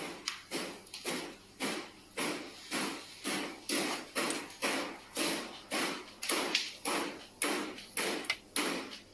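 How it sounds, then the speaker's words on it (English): A cupboard door knocks over and over in a steady, insistent rhythm, loud close wooden thuds repeating roughly twice a second without pause. "Soon after, a cupboard door begins to knock as well."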